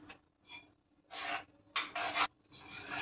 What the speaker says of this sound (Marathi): मी इथे 1 कप गव्हाचं पीठ घेतलेलं आहे। थोडं थोडं करून आपण याच्यामध्ये घालायचं आणि मिक्स करून घ्यायचं।